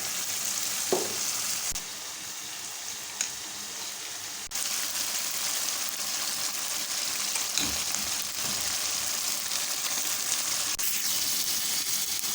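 Brinjal (eggplant) frying in a pan for baingan bharta, a steady loud sizzle with soft stirring scrapes and a few clinks, no talking.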